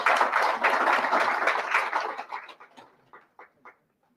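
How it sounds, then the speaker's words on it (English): An audience applauds for a commissioner at a national symposium, a dense round of hand clapping that thins out into a few scattered final claps and then stops. "a better hand clap for Madam Commissioner"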